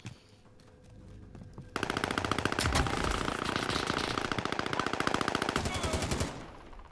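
Gunfire from a video game firefight: rapid automatic bursts crackle loudly and continuously for several seconds, close and dense, then cut off abruptly, after a quieter lead-in.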